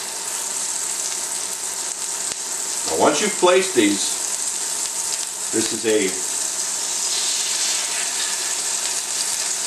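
Food sizzles and fries in a non-stick pan with a steady broadband hiss throughout, while someone talks briefly over it in the middle.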